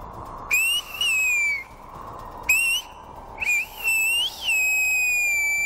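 Silbo, the whistled language of El Hierro, comes through as clear, piercing whistled phrases with sliding and held pitches, several separate bursts over faint background noise.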